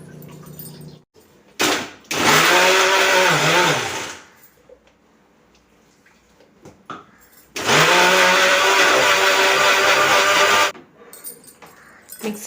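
A mixer grinder roars loudly in two bursts of several seconds each, its pitch wavering as it grinds, with quiet gaps between.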